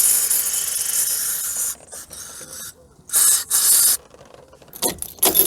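Contact cleaner hisses in loud bursts into the ignition switch of a classic Mini Clubman, a long spray followed by shorter blasts separated by quiet gaps with faint clicking.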